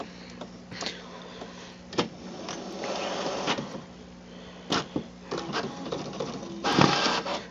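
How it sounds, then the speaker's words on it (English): An inkjet-style printer running a document sent over Google Cloud Print, giving a steady mechanical whir broken by repeated clicks and short louder bursts of the print head and paper feed, close by with no talking. "As you hear it, it has started printing."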